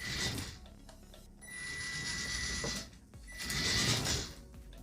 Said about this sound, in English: My servo's kind of loud there